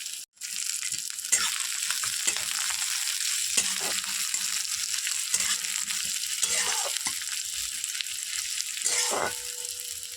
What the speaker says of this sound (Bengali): এটাকে ভালো করে একটু ভাজবো লাল লাল করে